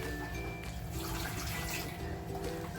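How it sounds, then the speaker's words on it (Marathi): Cold water pours steadily into a pot of moth beans for misal, a continuous splashing rush that fills the whole stretch, close and fairly loud. "मी थंडच पाणी टाकते आहे"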